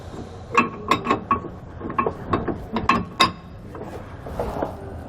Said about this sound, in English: We can then just reinstall the nuts and tighten them back down.